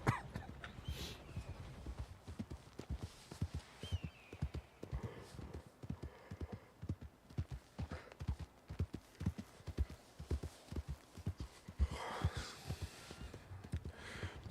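Steady clip-clop of horse hooves at a trotting rhythm in a Western roleplay video game, climbing a hill, close and continuous, with a few faint breaths and scattered ambient noise.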